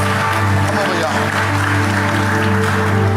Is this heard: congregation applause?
yes